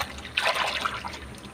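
Vegetables being washed under water in a home kitchen, a brief close trickle and splash of running water lasting about a second, no talking.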